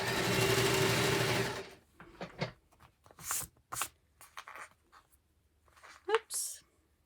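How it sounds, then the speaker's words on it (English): A sewing machine stitching a fabric envelope journal cover runs in a rapid steady whir for about a second and a half, then stops, followed by quiet handling noises and a brief voice. "So I'm just going to sew that."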